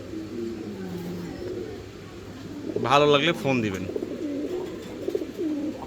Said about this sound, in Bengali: আপনারা দেখতে পাচ্ছেন 2 প্রজাতির কবুতর